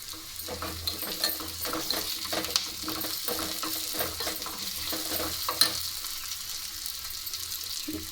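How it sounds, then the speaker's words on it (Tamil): Black pepper, cumin and curry leaves sauté in a pan for a mutton kuzhambu spice paste, a steady close sizzle with frequent stirring scrapes running throughout. "இப்போ மிளகு, ஜீரகம், கருவேப்பிலை இது 3 போட்டு நல்லா வதக்கிக்கலாம்"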